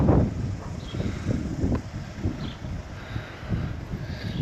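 Wind buffets the microphone outdoors on a breezy day, loud rumbling gusts rising and falling throughout with a rustling hiss and no speech.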